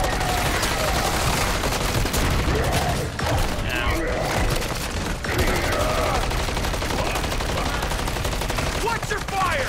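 Rapid gunfire from Call of Duty MW3 Zombies keeps up a dense, loud stream of shots through the whole stretch, broken by brief dips, with faint game sounds underneath.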